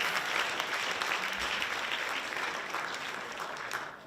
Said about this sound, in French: on l'applaudit une dernière fois